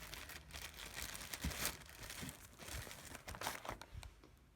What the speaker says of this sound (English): I'm putting the paper towel in the bag with the seeds.